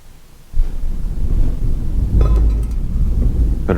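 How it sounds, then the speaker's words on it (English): A deep rumble of thunder from a tropical storm rolls in suddenly and sustains, low and heavy, with a faint hiss of rain or wind behind it. "so you might hear a bit of thunder and lightning in the background."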